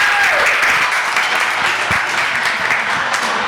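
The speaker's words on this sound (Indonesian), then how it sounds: "Tepuk tangan sekali lagi buat Bang Gary." An audience applauds after a talk at an evening fan event, a dense steady wash of clapping from a crowd that holds evenly before tapering slightly.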